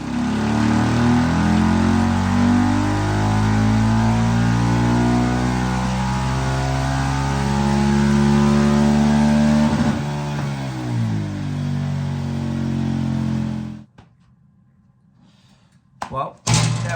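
A KTM 690 SMCR motorcycle with a DNA filter and Power Commander 6 remap revs hard on a dyno, climbing in a long loud sweep then dropping off, followed by a few thuds.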